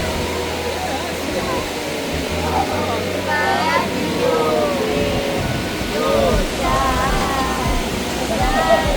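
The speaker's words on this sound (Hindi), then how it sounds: "एक काली नदी आ रही है, यही सीमा रेखा का काम करती है दोनों देशों के बीच में।" The Kali river, forming the India-Nepal border near Dharchula, rushes as a constant broad roar of flowing water, heard close and steady while someone speaks over it.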